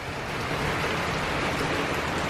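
Rain falls on a carport awning rooftop, a constant broad wash of noise at moderate level with no distinct drops and no voices.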